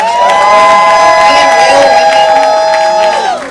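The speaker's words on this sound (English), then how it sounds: "Applause." A crowd at a female empowerment panel cheers loudly, with sustained high whoops and shouts that hold steady for about three seconds and then fade.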